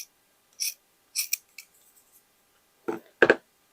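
Scissors cut leather for a boho shoulder bag in a few short, separate snips, close and crisp, with quiet gaps between them.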